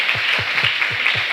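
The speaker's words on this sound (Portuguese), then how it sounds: "Pode aplaudir o Senhor" A church congregation applauding during a service, a quick steady run of hand claps about five per second, moderately loud and sustained, with no speech over it.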